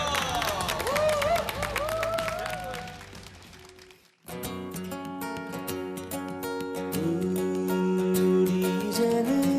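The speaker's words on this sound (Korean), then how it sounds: "여러분 박수 한번 주세요." A studio audience claps for a singer about to perform a song on a Korean music show, the applause running under a speaking voice for a few seconds before a guitar-led band starts playing.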